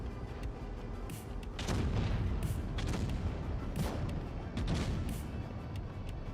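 Tank cannon fire and battle noise in World of Tanks Blitz, featuring the T95E6 tank, with heavy booming shots and rumbling blasts layered over dense, constant combat noise and no talking.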